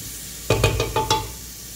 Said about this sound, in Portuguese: A gente vai dar uma refogadinha